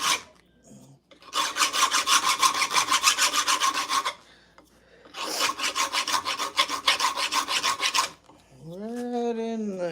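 Two long bursts of steady, rhythmic rasping as a knife blade is sanded, abrasive rubbing back and forth on metal, close and loud, followed by a rising whine.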